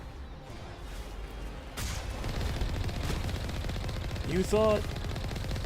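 Gunfire in Mass Effect Legendary Edition: a steady rattle of shots and impacts runs under a player's talking, with a brief louder burst near the end.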